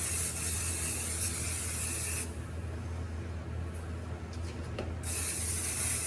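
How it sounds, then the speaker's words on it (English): Cooking spray hisses into a pan in two bursts, a loud continuous spray, then a pause and a short second spritz, heard close up with no talking. "Spray."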